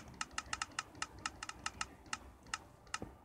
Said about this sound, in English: You're gonna hear the clicking. That means it's working.